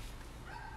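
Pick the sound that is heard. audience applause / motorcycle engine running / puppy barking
puppy barking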